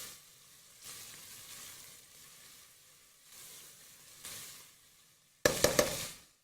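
Onions frying in a pan for a Hyderabadi curry, a soft, even sizzle that swells in waves and ends in a sudden loud burst of crackling and stirring near the close.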